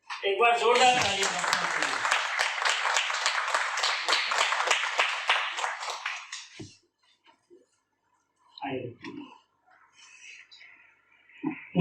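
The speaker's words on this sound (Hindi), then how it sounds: "एक बार जोरदार तालियां" Loud, dense applause from a meeting audience at a foundation core members' gathering, sustained for about six seconds and then fading out, followed by scattered speech.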